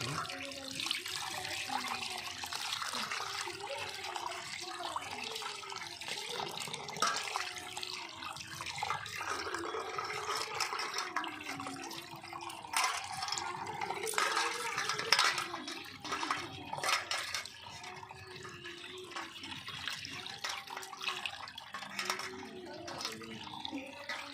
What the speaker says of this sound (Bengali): আমাদের মাছ ধোয়া কমপ্লিট